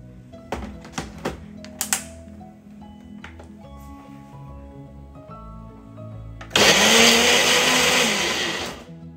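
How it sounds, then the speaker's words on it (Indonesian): An electric blender grinding chili and shrimp paste for sambal roars loudly for the final few seconds, preceded by knocks, clatter and handling of the jar in a kitchen. "Sekarang saya blender dulu semua jadi satu, baru kita mulai."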